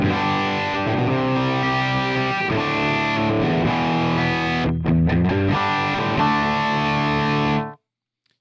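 A distorted electric guitar through a Fractal Audio Axe-Fx II plays thick, crunchy chords in a classic rock tone, loud and sustained, with a brief choppy break before ringing out and stopping.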